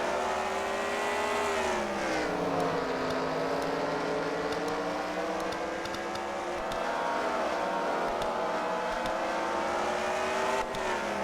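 Slinger race cars circling a track, a continuous droning chorus of engines rising and falling in pitch as they pass, steady and fairly loud throughout, with no talk.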